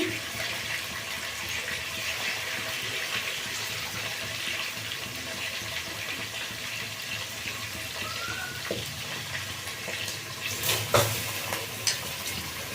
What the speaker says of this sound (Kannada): ಈಗ ಇದಕ್ಕೆ ಅಕ್ಕಿ ಹಾಕ್ಕೊಳ್ತೀನಿ